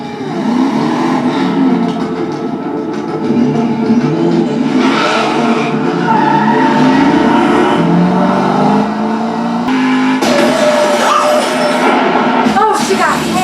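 A car strikes a person in a television drama scene, with engine roar, tire noise and a hard impact mixed under loud dramatic soundtrack sounds, with no talk in the clip.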